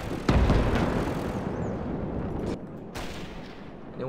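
Artillery piece firing in the World War II game Gates of Hell: one heavy, booming shot with a long rumbling tail, followed by a fainter second report, close and loud.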